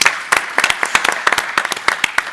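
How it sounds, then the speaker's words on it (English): A conference audience applauds in a brief burst of dense, uneven clapping from a moderate-sized crowd, loud and close, with no talk over it. "round of applause from the audience"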